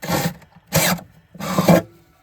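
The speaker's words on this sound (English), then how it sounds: "So we're just gonna drill in right here." A drill bores a hole in a snowmobile ski, then the hole is enlarged to a bigger size, with three loud rasping bursts of drilling separated by short pauses.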